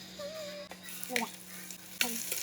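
Chopped ginger frying in a pan for pinapaitan, a soft sizzle with a few stirring scrapes, fairly quiet and close.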